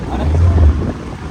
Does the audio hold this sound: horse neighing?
no